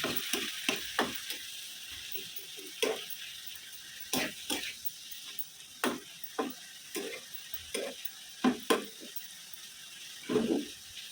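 Onions cooking in a pan with a little water added, a soft, steady sizzle broken by frequent clicks and scrapes of a spoon stirring against the pan.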